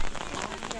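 Steady rain patters on a hiking trail, a close, dense wash of drops with no other clear sounds in the brief moment.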